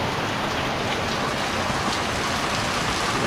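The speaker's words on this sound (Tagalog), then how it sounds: "Nabasa sila ng ulan, yung natural na tubig." Steady, heavy rain pours down without a break, a dense hiss of drops striking surfaces close by.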